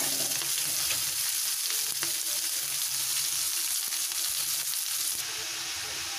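Chowmein vegetables sizzle loudly and steadily in a hot pan as they are stirred and cooked, a dense close frying hiss with occasional scraping and no voices.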